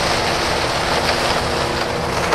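A sugarcane harvesting machine runs in the field with a steady, dense roar that holds a low engine hum, loud and continuous with no talking.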